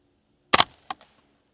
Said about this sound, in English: Let's just get a 5-shot group here.